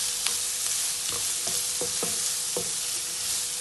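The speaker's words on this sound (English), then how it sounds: "And fry it till it's nice and translucent." Onions fry in a pan for egg masala with a steady hiss of sizzling, while a spoon scrapes and taps through them in several quick, close strokes.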